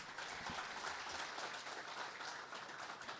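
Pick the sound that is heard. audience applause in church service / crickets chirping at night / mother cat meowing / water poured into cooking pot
audience applause in church service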